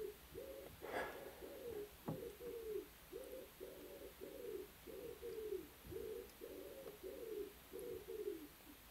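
A pigeon perched on a darkroom roof coos again and again in a steady, rolling rhythm, soft and muffled through the ceiling, with an occasional faint tap nearby.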